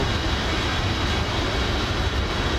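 Steady airplane engine drone in Microsoft Flight Simulator 2024, a continuous, even, broadband roar holding constant throughout with no talking.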